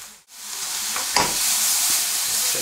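Mushrooms and brushed, cleaned truffle cooking in a pan, giving a steady near sizzle and frying hiss with light stirring scrapes, after a brief dip at the start.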